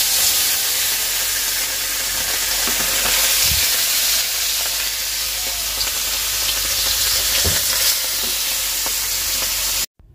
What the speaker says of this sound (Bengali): মাছটা ভালো করে ধুয়ে নিয়ে এসে একটু লবণ হলুদ মেখে এই যে মাছটা ভাজা বসিয়ে দিলাম